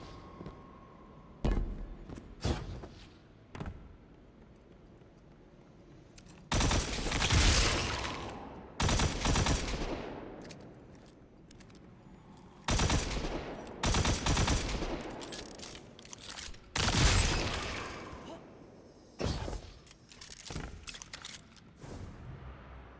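Bursts of gunfire from Destiny 2 shooting down swarming moths, with repeated loud volleys and rapid fusillades spread across the scene, separated by brief quieter gaps.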